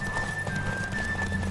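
Horse hooves clip-clop at a steady gallop in The Witcher 3, close and continuous, with a high tonal game effect ringing above the hoofbeats and no talk.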